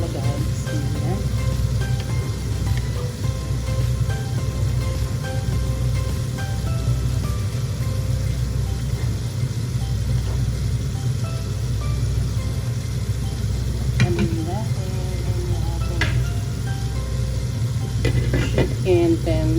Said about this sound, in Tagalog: we will simmer it for another 10 to 15 minutes or less